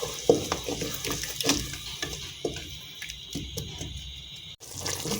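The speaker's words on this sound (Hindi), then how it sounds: "थोड़ा सा पानी डालेंगे" Water poured into a pot of spice mix frying with red chili powder and salt, giving a splashing, sizzling hiss with a few sharp pops and crackles that settles into a softer steady fizz. No one speaks.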